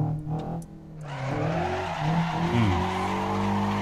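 In the Assetto Corsa driving game, a Eunos Roadster mod drifts with a sustained engine drone and long wavering tire squeal as the car slides, heard close and continuous, with a brief murmur of a voice at the start.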